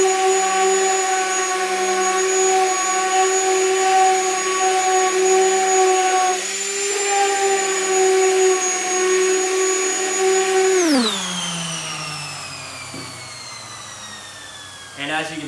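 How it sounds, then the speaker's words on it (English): Power sander working a wood board before shou sugi ban charring, a loud steady motor whine with a droning buzz that holds, then spins down at the end. "we're just going to sand this down to lighten up the colors a little more and to bring out that wood grain a little more"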